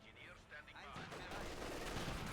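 Mortar half-track firing during a Company of Heroes 2 match, with a distant thump that swells into a continuous rumble of battle noise and faint voices underneath.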